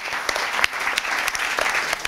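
An audience at a New Year's wishes ceremony in Verrières-le-Buisson applauds with dense, steady clapping and sharper individual claps standing out, with no talking.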